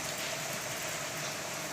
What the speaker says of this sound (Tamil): எப்படி மழை பெய்யுது பாரு பாரு பாரு